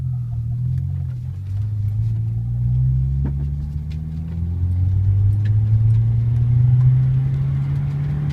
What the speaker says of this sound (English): when I go to second gear, the needle goes back down